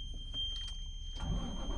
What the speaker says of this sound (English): we start the engine, we release the parking brakes, and we let the air build